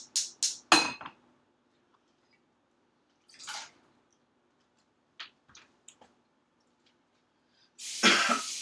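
Three quick, close coughs, then mostly quiet with a few small clinks and splashes before a burst of running water at the end.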